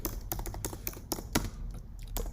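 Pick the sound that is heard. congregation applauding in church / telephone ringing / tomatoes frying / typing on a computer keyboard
typing on a computer keyboard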